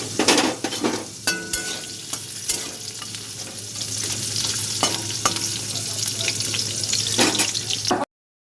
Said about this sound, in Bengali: একদিকে মাছের মাছ ভাজা হচ্ছে